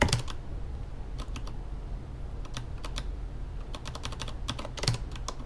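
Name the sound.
pressing backspace repeatedly on a computer keyboard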